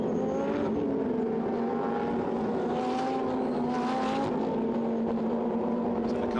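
Lamborghini Super Trofeo Europe race cars at Silverstone, a steady loud engine drone with layered harmonic tones and passing surges, continuous throughout with faint commentary-like voice underneath.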